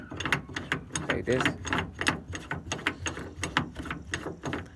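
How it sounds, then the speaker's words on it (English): A tie-down bed cleat is screwed into the bed rail of a Toyota Tundra, giving a steady run of close, rhythmic ratcheting clicks with brief talk over it. "So you just screw it back"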